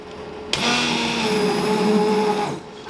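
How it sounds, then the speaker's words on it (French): A blender whirs loudly through cooked vegetarian soup, starting abruptly and running steadily for about two seconds before cutting off, heard alone and close up. "Ma soupe a fini de cuire, donc je vais mixer tout ça."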